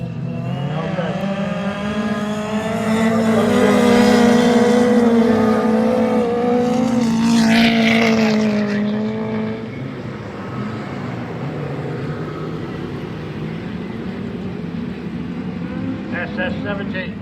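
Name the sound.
autograss racing cars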